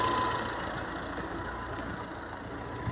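Steady idle of a mini tractor with a newer-type engine, a continuous droning rumble close by with no changes in pace, alone without talk.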